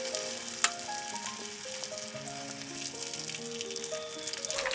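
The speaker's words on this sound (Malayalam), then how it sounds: "അത് നമ്മളെ മീൻ വറുത്ത് കോരുവാണ്" Tuna pieces fry in hot oil for a Kerala-style fish curry, a close steady sizzle and crackle with a sharp clink of a utensil early on and faint background tones.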